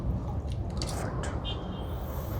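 Liquid hydroponic nutrient solution, part B, poured into a hydroponic system, a steady splashing and trickling stream close by with scattered drips.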